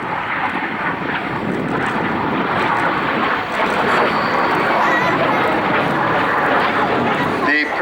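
F-86 Sabre jet with a GE turbojet engine flying a barrel roll at an RAF Cosford airshow, a loud continuous roar that holds steady throughout the clip, with nobody speaking.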